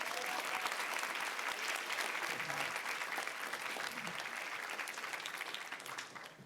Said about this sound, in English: round of applause for the ghost person.